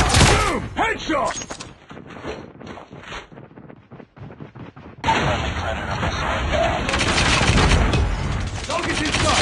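Gunfire in the mobile shooter Call of Duty Mobile, loud close bursts of rapid shots with a lull midway, then a dense sustained stretch of firing and action noise, with game voice callouts over it.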